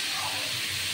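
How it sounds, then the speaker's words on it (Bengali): Cauliflower frying in a pan with sugar and salt for a Bengali cauliflower roast, a continuous soft sizzle with faint stirring, steady and close. "আমি এইটা চিনি আর লবণ দিয়ে এটা ভাজবো"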